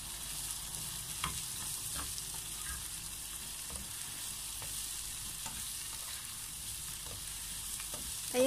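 Pumpkin sautés in a pan with a faint, even sizzle, broken by scattered light scraping taps from stirring, soft and steady with no voices.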